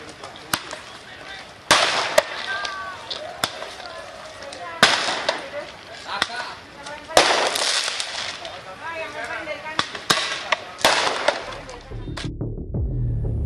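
Firecrackers set off by residents resisting a police anti-drug raid, sharp bangs repeating irregularly about a dozen times, some loud and close, with shouting voices and crowd noise between them.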